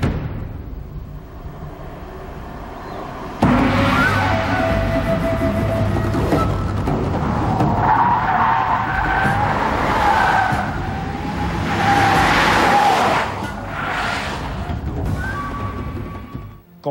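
A 200-horsepower Volkswagen Passat CC TSI with a dual-clutch DSG gearbox is driven hard on the Autódromo de Dolores racetrack. A loud engine surge cuts in suddenly, with squealing tires and rising, wavering tones through the hard cornering.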